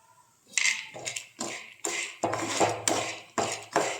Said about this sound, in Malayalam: പൊട്ടി വരുന്നുണ്ട് കടല